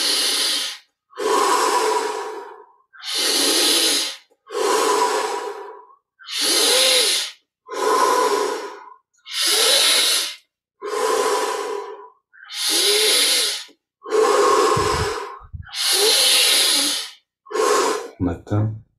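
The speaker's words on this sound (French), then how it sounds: "On approfondit l'inspire, l'expire. Crescendo progressif." Deep rhythmic yogic breathing from a Kriya Yoga exercise, about a dozen long, loud, close breaths in steady succession that swell in strength toward the end, with no talking.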